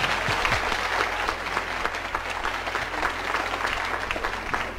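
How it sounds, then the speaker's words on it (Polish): Dense, steady applause from a TV show audience honouring women, sustained and fairly loud throughout with no voices over it. "Brawa dla kobiet."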